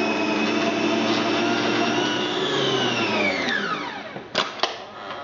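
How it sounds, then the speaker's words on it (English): Electric whisk beating cupcake batter, a loud steady mechanical whir that drops in pitch as it winds down, then a couple of knocks near the end. "just put the rest in and whisk that up, and that's our cake mixture."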